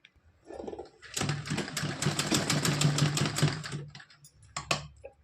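A sewing machine stitches a small heart-pattern dress for a Kanha idol, running in one steady, rapid burst of about three seconds and then a few short stops and starts.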